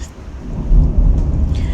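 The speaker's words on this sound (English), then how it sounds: "There's a massive storm going on outside too." A heavy thunderstorm rumbles outside, with low rolling thunder swelling over a steady wash of rain, loud and continuous with no talk.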